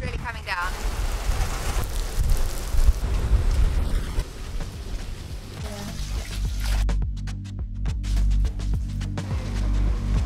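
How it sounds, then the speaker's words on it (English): Heavy rain pours down on Isla Mujeres, Mexico, during a boat tour, a dense, constant rushing hiss, with occasional rumbles and clatters beneath it. "now it's pouring with rain"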